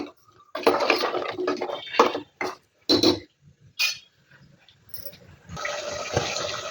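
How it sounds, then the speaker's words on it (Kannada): Water splashes into a mixer jar holding ground masala for a spicy trotter soup: a few short gushing bursts, then a steadier, louder pour near the end. Nobody speaks. "ಈಗ ಅದೇ ಜಾರಿಗೆ ಒಂದು ಸ್ವಲ್ಪ ನೀರನ್ನು ಕೂಡ ಸೇರಿಸಿ ಹಾಕ್ಕೊಂಡು"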